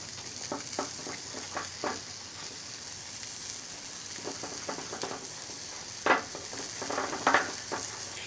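Melting cheese is stirred in a pan, giving a soft steady sizzle with irregular scraping and clacking strokes of a utensil, a louder cluster near the end.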